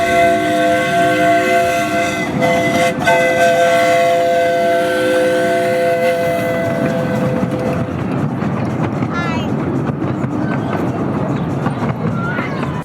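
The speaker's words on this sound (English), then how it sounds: "Here's the Tagany arriving at the station." A Strasburg Railroad train arrives at the station: a loud steam whistle sounds in long held blasts, then gives way to rumbling, hissing and clanking as it pulls in, with people talking on the platform.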